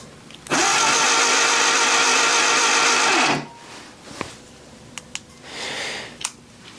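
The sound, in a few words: Willys engine cranking over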